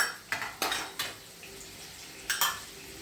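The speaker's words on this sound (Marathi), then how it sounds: "डाळं आणि खोबरं छानपैकी सगळं परतून घ्यायचं आहे." Roasted gram, peanuts and coconut stir-fried in a pan over low heat for thin poha chivda, soft sizzle under a few sharp spatula scrapes and knocks against the metal.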